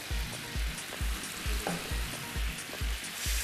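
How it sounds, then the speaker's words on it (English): Beef stir-frying in a pan with a soy sauce glaze and rice vinegar, a steady loud sizzle with regular rhythmic scraping thumps from stirring, close and continuous, no voices. "stir your beef around, and that's it"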